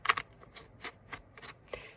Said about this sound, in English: You've heard me shuffling over here.